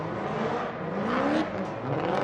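A Ford Fiesta gymkhana car at a South African gymkhana event revs hard and close, its engine note rising and whirring continuously with no pause.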